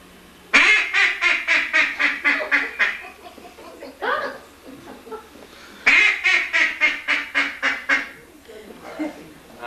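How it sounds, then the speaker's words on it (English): A burst of loud, rapid duck quacks, a brief pause with softer calls, then a second run of quacking, close and clear. "Hey, ducks."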